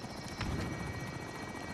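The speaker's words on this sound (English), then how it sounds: "Where's that chopper?" A helicopter arrives in a Call of Duty match as a loud, steady rotor buzz and whine that fills the scene, with a couple of faint clicks over it and no talk.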